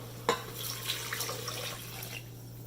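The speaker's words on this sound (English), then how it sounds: "Now I'm going to add 2 cups of water" Water pours into a pressure cooker holding green lentils for a spinach dal, a soft steady splashing stream that runs a couple of seconds, nearby and alone.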